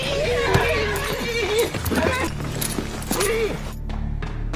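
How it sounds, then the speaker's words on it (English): In a scene from the Game of Thrones series, a riderless horse neighs in several rising and falling whinnies with hoof clops and thuds, close and loud, mixed with voices. "That's my Uncle Benjamin's horse."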